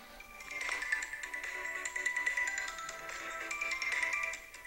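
A telephone ringtone chimes during a lecture, a faint electronic melody of repeating tones lasting several seconds with no speech over it.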